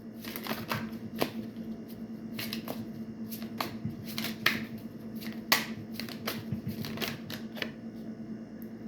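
Tarot cards are shuffled and drawn close up, with a steady patter of riffling and flicking snaps against a low background hum.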